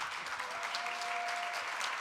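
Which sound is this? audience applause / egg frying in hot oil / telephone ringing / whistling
audience applause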